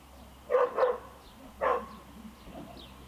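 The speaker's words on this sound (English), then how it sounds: "don't know what the dogs are barking at" Dogs bark nearby during a Toro Super Recycler SR4 lawnmower repair: a quick double bark, then a single bark a second later, with a faint whimper trailing off and no talking.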